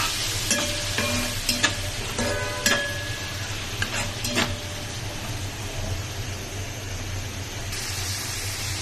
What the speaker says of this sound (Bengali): জলটাকে দিয়ে এবার মশলাটাকে ভালো করে কষিয়ে নেব।